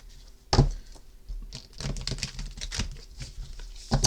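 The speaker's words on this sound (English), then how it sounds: "let me give them a different type of shuffle here" Tarot cards shuffled by hand, with a sharp riffle burst near the start followed by a soft, irregular patter of card flutters at close range, and no talking.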